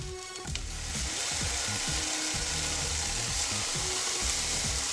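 Smoked bacon sizzles steadily in a hot pan, a constant bright crackle and hiss throughout, with low clicking and scraping knocks from the pan or utensil underneath.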